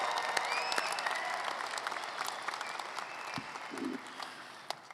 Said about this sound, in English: how about a big round of applause for our graduates today